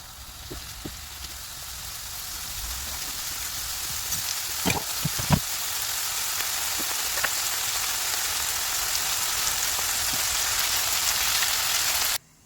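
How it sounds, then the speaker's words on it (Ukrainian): A steady, dense sizzle of onion and garlic frying in oil holds throughout, with a few soft clicks and taps, then cuts off abruptly at the end. "Обсмажую цибулю та часник до м'якості."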